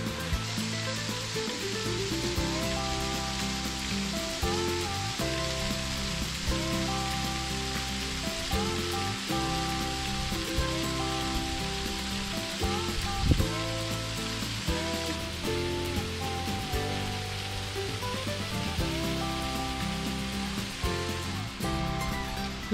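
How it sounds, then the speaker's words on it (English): Lost Sink Falls at Keel Mountain Nature Preserve in Gurley, Alabama, pouring in a steady, broadband rush of falling water that holds an even level throughout, with no talking. "That's a pretty cool waterfall right there."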